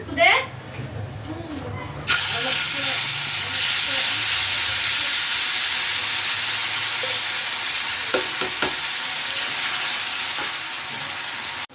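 Ground red chutney for veg momos sizzles and fries steadily in oil in a home kitchen pan, a loud continuous hiss after a short quieter start, with brief stirring scrapes.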